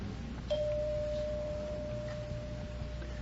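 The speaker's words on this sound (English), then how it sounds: "Oh, the bell is tolled." A single bell tone on a vintage television quiz show, one clean ring that sustains steadily for nearly three seconds over a quiet studio background, with no talk over it.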